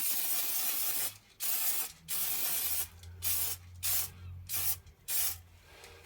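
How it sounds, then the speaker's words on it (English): Spray paint hisses onto a woodturned piece in repeated short bursts of about a second each, close and fairly loud, with brief pauses between passes. "Just want to give that a reasonable coat of paint on there."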